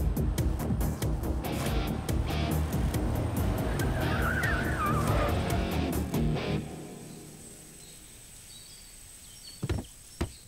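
A car in a Hindi-dubbed action movie slows and brakes to a halt under a dense music-and-effects bed with a brief squealing sweep, then the scene drops quiet apart from a couple of soft thuds near the end.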